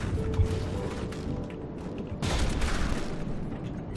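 Cram cannon barrage in the naval combat game From the Depths: a dense, continuous rumble of distant bombardment with a heavier burst partway through, with no voices over it.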